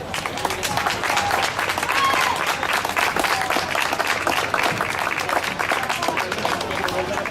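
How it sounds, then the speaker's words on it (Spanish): Audience applause for master's students in political communication at an outdoor public university event, steady dense clapping with crowd noise lasting throughout. "Un aplauso para ellos."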